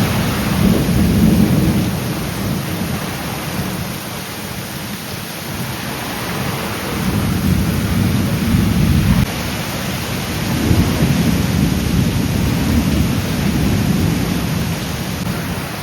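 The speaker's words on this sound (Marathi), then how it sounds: "पाऊस भरपूर आहे." Heavy monsoon rain pours steadily in Konkan, a dense close wash of drops with deep rolling thunder rumbling underneath in slow swells throughout.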